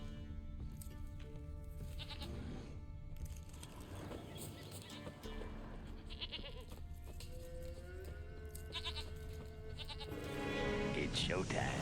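A goat bleats repeatedly in The Witcher 3: The Wild Hunt, with several wavering cries spread across the stretch, some near and clear, over game music and ambient sound.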